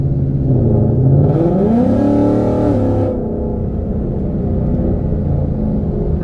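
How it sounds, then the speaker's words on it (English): A 2018 Ford Mustang GT with a 10-speed transmission revs up loudly with a rising, throaty exhaust note, then settles into a steady low rumble. "let me get on it again a little so you can hear that exhaust"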